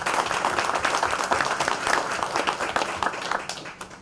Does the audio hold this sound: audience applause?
yes